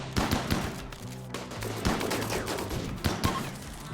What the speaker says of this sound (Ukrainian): підходите зараз отак от сюди обережно і починаєте стрілянину